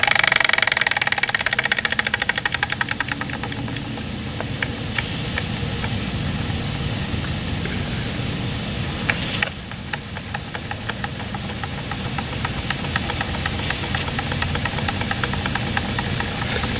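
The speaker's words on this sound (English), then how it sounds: "This is my only double acting engine." A double acting steam engine runs steadily at low speed, its rhythmic chuffing and knocking strokes layered over a constant hiss of steam, close and loud, with a brief burst of venting near the middle and no voices.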